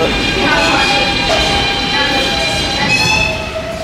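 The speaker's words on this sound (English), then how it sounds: "this is the F train we need" New York subway F train rumbling along with steady broadband noise and high wheel squeal tones throughout, loud and close, easing slightly at the end.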